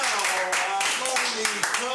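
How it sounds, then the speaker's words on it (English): An audience applauding performers in a theater, a sustained, moderately loud clatter of many hands with talking heard over it. "Let's give them a round of applause"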